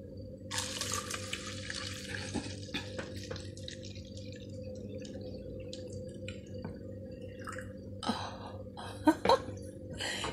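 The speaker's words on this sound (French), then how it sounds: "Et lorsqu'on a fini de mettre notre eau comme ceci" Water is poured from a container into a cooking pot holding about ten cloves, a steady splashing stream over a low hum, with a few sharper knocks and a faint cough toward the end.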